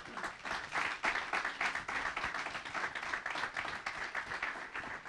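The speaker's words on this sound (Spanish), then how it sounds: "Un aplauso, por favor, para todos." An audience at a radio station's programming presentation in León claps for several seconds, a dense, even round of applause that swells slightly near the start and continues steadily to the end.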